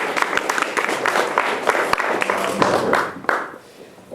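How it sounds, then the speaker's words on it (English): An audience at a poetry reading event in Cork applauds as a poet is welcomed onto the stage, the clapping fairly close and lively before thinning out and fading near the end. "Please, a round of applause for"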